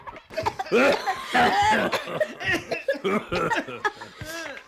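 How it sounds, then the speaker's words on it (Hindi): Several people cough repeatedly in rough, uneven bursts, close by, with some laughter-like sounds mixed in. "खांसते खांसते सब बेदम हो गए।"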